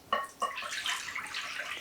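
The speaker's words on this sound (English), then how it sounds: "I'm going to pour it into the bowl" Hot bone broth pours from a pot into a bowl, opening with two quick splashy drops before settling into a steady, faint liquid stream, with no voices.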